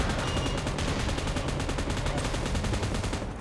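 Sustained rapid automatic gunfire from the PUBG Mobile battle royale game, a dense, loud, continuous stream of shots rattling evenly for the whole stretch with no pauses.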